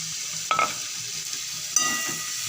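Pre-fried potatoes go into a jackfruit curry, followed by a steady low sizzle and two sharp scrapes of a spoon against the pan.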